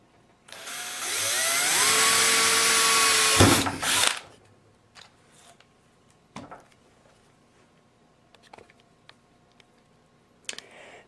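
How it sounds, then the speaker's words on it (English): A power drill with a 1/4 inch bit bores a hole through the center of a PVC cap, whining loudly for about three seconds before stopping abruptly, followed by scattered light clicks and handling noises. "take our PVC cap and drill a hole right in the center with our 1/4 inch drill bit"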